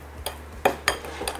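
A spoon clinks against a bowl while stirring a pork barbecue marinade with a tablespoon of oil, giving four sharp, close taps spaced unevenly over a faint background.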